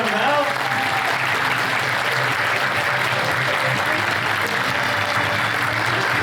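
A large crowd applauds steadily at an esports player's retirement ceremony, a dense, loud wash of clapping that carries on without pause.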